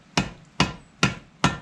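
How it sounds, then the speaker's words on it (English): A big hammer strikes metal four times at an even pace while a brake anchor peg is fitted with new brake shoe linings, each blow a sharp, loud, close clang that rings off briefly, with no talking. "big hammer."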